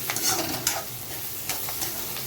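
Onion tomato masala with curry leaves being stirred in a pan, a steady close sizzle with scraping spoon strokes at intervals, no talking.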